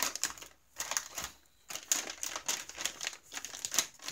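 MRE plastic food packaging for a 2014 Mexican style chicken stew menu being torn and handled up close, crackling crinkles and tearing bursts in uneven spurts with short quiet gaps, no talk.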